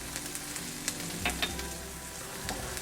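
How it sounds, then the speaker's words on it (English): Garlic and onion sautéing together in a pan give a close, steady sizzle with a few light stirring clicks and scrapes, and no voices over it. "I saute the garlic and onion together."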